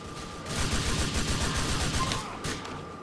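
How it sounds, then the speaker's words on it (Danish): Rapid gunshots in the video game GTA IV, a dense rattling burst of automatic fire lasting about two seconds, loud and close, with one more shot shortly after. "Jeg fyrer dig lige i ansigtet"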